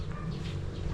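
Rhode Island Red chickens cluck softly in their coop, faint and close against a low steady background hum.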